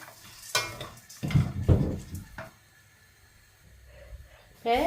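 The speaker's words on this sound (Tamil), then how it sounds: "நான் முதல்ல பார்லி அரிசியை தான் வறுத்தெடுக்கிறேன்" Barley rice dry roasting in a pan, heard as a few stirring scrapes and grainy rattles against the metal, with faint quiet stretches between them and a brief voice at the very end.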